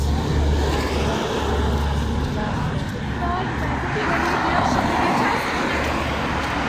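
A car passes close by on a street in Tekirdağ in autumn, its broad engine and tyre rumble steady throughout, with people talking over it.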